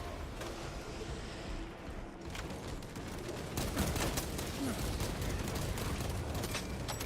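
A dense, rolling volley of rapid gunfire in the video game Warhammer 40,000: Space Marine 2, loud and continuous with a thick rumbling wash of explosions and mechanical clatter, intensifying midway through.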